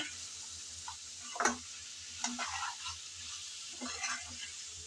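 Cauliflower stalks stirred and fried in a pan, a low sizzle broken by a few scraping stirs of the spoon, fairly faint and close with no talk.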